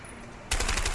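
Gunfire in the video game A Way Out erupts abruptly halfway through, a loud rapid burst of shots continuing to the end after a brief quieter stretch.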